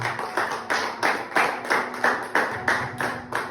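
A church congregation claps in unison during a sermon, a steady rhythmic beat of roughly three claps per second, close and loud, with no talking over it.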